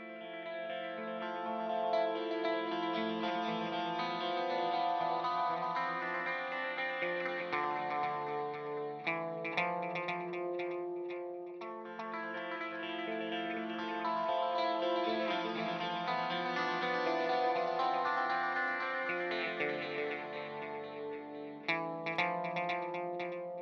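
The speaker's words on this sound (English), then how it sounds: "So it's my phaser pedal in front of the amp, and then obviously we've got that split delay thing going on." Electric guitar played through a phaser pedal in front of the amp and a split dual delay, giving sustained chords with sweeping phase motion and repeating echoes, steady and alone with no talking.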